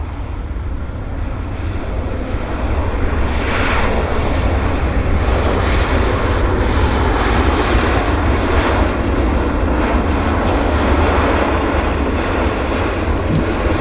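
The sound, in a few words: Flair Airlines plane landing on runway at YVR airport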